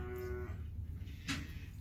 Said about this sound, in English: There's a white cow and a calf.